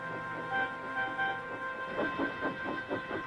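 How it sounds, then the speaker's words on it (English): A toy steam engine chuffs in a steady, quickening rhythm over a constant droning hum, the puffs growing more distinct as it passes. "Percy waited on the siding until Henry had steamed by."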